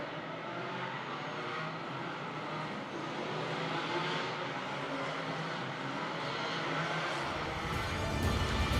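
GT4 race cars pull away from the grid at Hockenheim, a loud, continuous roar of many engines blending together that swells slightly toward the end.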